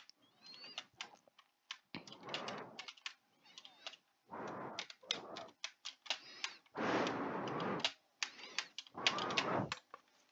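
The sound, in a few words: computer keyboard typing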